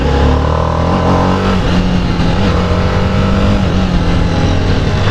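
A TVS Apache RR 310 motorcycle (2021) accelerates hard in urban mode, its engine note loud and close, rising through the revs with a rough, buzzing growl and wind rush.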